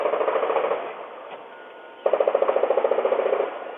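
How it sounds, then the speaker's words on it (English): Rapid gunfire crackles in quick bursts, many rounds fired in succession with a brief lull between volleys, sounding muffled and somewhat distant. "Ring camera video near the church also capturing what seemed to be multiple rounds of gunfire"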